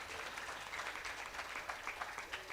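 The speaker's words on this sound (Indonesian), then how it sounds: "Mana tepuk tangan dulu kelas 12." Grade 12 vocational school students at an Islamic boarding school applaud together, a soft, distant patter of many hands clapping continuously.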